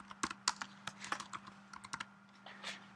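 Computer keyboard typing, a quick irregular run of close, crisp key clicks over a faint steady hum.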